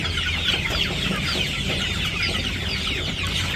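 A white chicken in a village yard clucks continuously, close up, in a busy run of short calls with no talk.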